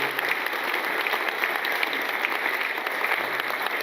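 Steady applause from the audience at a musical tribute show honouring a late composer, dense even clapping throughout with no pauses.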